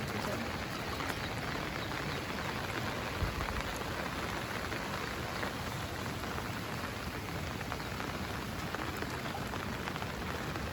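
Steady rain pours down across the whole stretch, a dense even hiss of drops striking a surface, with no voices.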